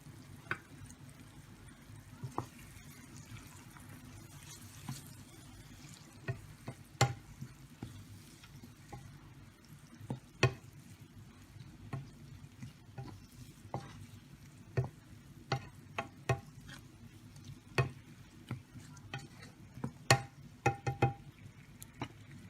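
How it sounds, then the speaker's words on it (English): Sautéed onions being stirred with curry powder in a pan for tomato rice, heard as a quiet low simmering bed with scattered sharp spoon taps and scrapes, faint and close, with no talking. "And I'm adding this curry powder after sauteing the onions."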